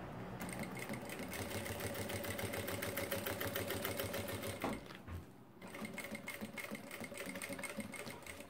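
A sewing machine stitches lining and plastic for a fabric organizer, rattling continuously and close. It pauses briefly about two-thirds of the way through, then resumes the same steady whir.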